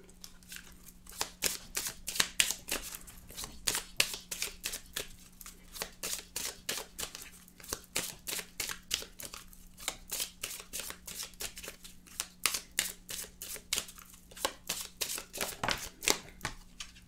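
Oracle cards shuffled during a card reading, a steady run of quick, crisp riffling slaps repeating for about seventeen seconds, close and fairly soft.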